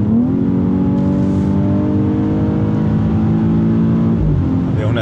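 A 2023 BMW X3 M40i inline-six engine accelerating hard on the road, heard from inside: a loud, continuous rising drone with steady gear-pulling tone, dipping briefly near the end as it shifts.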